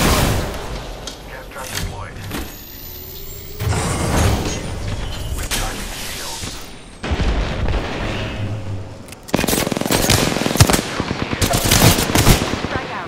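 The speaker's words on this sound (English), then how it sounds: "I am taking fire, Fred." Incoming automatic gunfire hits the player in Apex Legends on Xbox: rapid rattling bursts, loud and close, mixed with impacts and booms, while a voice talks over part of the action.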